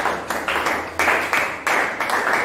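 Church congregation applauding, rhythmic unison claps in a steady beat of about three per second, bright and fairly close, filling the space with no talk over them.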